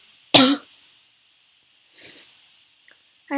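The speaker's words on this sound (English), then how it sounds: "Is that why I'm coughing?" Three coughs from a person: a loud harsh first cough, a softer second one after a pause, then the start of another at the end, with quiet between them and no talking.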